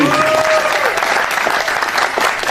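Audience clapping during a religious lecture, a dense burst of many hands applauding steadily throughout.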